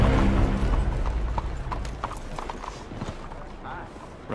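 A horse's hooves clip-clop rhythmically in a video game, clear and close, with a soft fading rumble underneath.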